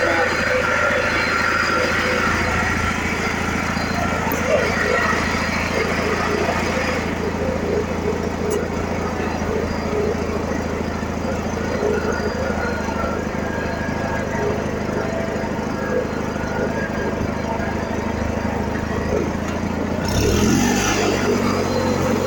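A hydrostatic riding lawn tractor engine drones steadily at close range for the whole stretch, with a brief shift in tone near the end.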